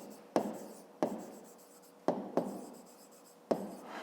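A pen writes on paper in a math exercise notebook with five sharp taps, each followed by a short scratchy stroke that fades, close and fairly quiet.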